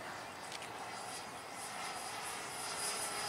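A gray F-15 model airplane at a flying field drones faintly overhead, a steady distant engine whine over quiet outdoor background.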